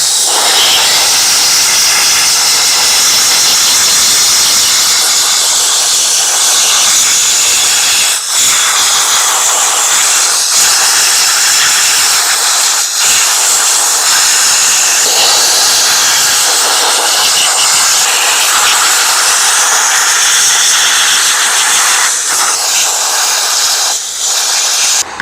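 Soda blaster spraying baking-soda media onto old aluminum engine parts, a steady loud broadband hiss and rush that runs continuously throughout with slight surges and brief dips.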